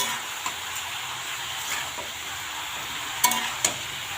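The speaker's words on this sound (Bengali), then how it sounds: "এটা এখন ভালো করে নেড়ে নেব।" Bottle gourd curry with salt and turmeric is stirred in a sizzling pan, a continuous frying hiss with soft scraping strokes and a couple of sharp utensil clinks near the end.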